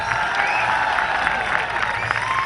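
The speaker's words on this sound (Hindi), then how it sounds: "एक बार जोरदार तालियां बजाइए भाई।" A crowd at a kavi sammelan poetry gathering in Indore claps steadily, a dense and loud burst of applause that holds for its whole length.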